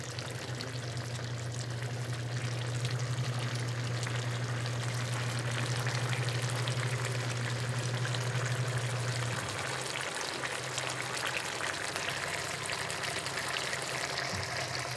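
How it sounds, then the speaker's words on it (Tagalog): A pot of pork leg paksiw, pata simmered in a white vinegar braise, boils with a steady bubbling hiss and a low hum under it for the whole stretch, with no talk. "Kumukulo siya ng kumukulo guys."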